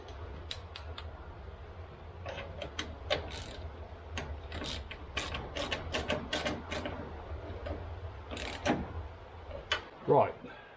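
A ratchet wrench turns a 10mm socket on a nut while working on a Lincoln Green Range Rover's bonnet catch and bumper, giving a series of sharp close clicks in short bursts over low background hum.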